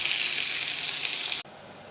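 Chopped onions sizzle hard in hot desi ghee with cumin seeds in a home kitchen pan, a bright steady frying hiss that cuts off abruptly, leaving a quiet room.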